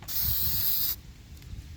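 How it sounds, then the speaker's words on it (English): DEI high-temperature spray paint hisses from an aerosol can in one close, loud, steady burst lasting just under a second, followed by a cut-off and faint rustling handling noise. "that's the second coat of DEI high temp spray"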